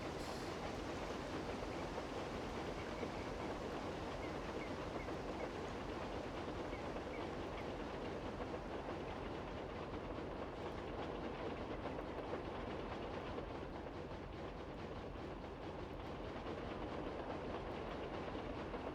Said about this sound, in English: We're going to try and get this very long line of box cars all the way to the docks.